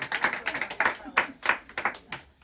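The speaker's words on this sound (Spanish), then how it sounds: "dándole un aplauso a Lida, a Ana," A burst of audience clapping at a book catalogue presentation, fairly close and uneven, with scattered hands building into brief applause and no talking over it.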